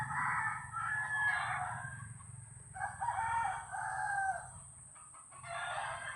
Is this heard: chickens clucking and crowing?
yes